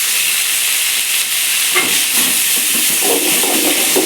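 Onions and tomatoes sauté in a pan for chapati kurma, giving a loud, close, steady hiss and sizzle. It stays unbroken for the whole stretch.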